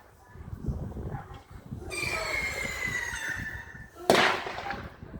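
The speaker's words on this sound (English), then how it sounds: "why do you launch fireworks in the day?" Fireworks are launched in daytime: a rising whistle is followed by a sharp crackling burst, heard over faint outdoor background noise.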